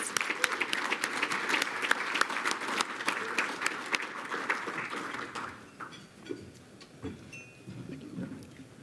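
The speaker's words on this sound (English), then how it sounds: "A round of applause for them, please." An audience at a lunch with BC's Official Opposition Leader Kevin Falcon breaks into dense, steady applause that fades after about six seconds, leaving scattered claps and room noise.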